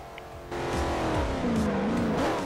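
A Plymouth car in the racing game Forza Motosport 4 is quiet at first, then its engine roars in loudly and revs, the pitch climbing, dipping and climbing again as it drifts.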